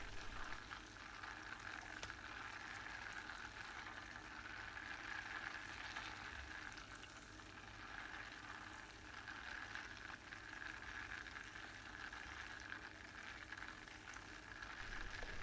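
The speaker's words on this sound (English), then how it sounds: "As soon as the first foam layer fully appears, turn down the heat to low and continue to stir slowly" Unsalted butter simmering over low heat as it is made into ghee, a steady soft frothy sizzle and bubbling that continues evenly throughout, fairly quiet and uninterrupted by talk.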